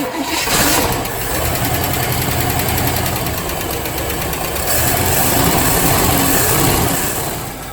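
A 1958 Chevrolet Bel Air V8 with a rebuilt Rochester two-barrel carburetor and working accelerator pump idles close by in a steady, rumbling, slightly uneven drone, with a brief surge near the middle.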